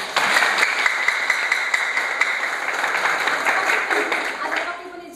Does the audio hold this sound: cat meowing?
no